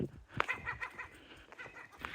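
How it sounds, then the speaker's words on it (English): Seagulls nesting at an abandoned holiday camp in Devon call out in a few short, squawking bursts, somewhat distant against quiet outdoor background noise. "Don't know if you're picking up all the seagulls"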